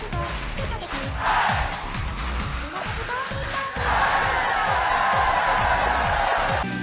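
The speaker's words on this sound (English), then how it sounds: "you can tell the crowd is satisfied as they call for more and scream together" A large arena crowd at a major concert cheers and screams together, a loud continuous roar over a steady pounding rhythmic beat that swells in the later part.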